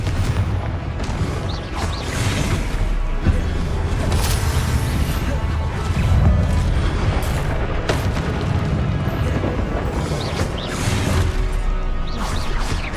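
Fire-blast and disarming spells in the Hogwarts Legacy video game boom, crash and whoosh loudly and continuously, stacked dense explosive impacts with a voice calling out over the combat.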